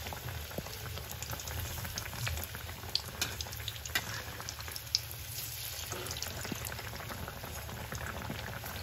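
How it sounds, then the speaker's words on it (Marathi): Bread patties deep-fry in hot oil with a soft, steady bubbling that carries on evenly at low volume, dotted with tiny pops and no voices. "अशा प्रकारे मी याला तेलात टाकलेलं आहे। याला चांगला फ्राय करून घ्यायचं आपल्याला डीप त्याच्यामध्ये।"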